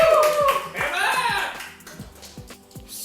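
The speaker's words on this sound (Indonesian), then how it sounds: "Boleh kru kasih tepuk tangan dulu" A small crew claps briefly in an indoor setting, a quick handful of claps that fades into quieter tapping, with some speech at the start.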